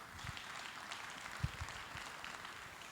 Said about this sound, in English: Big round of applause for all of them who make this possible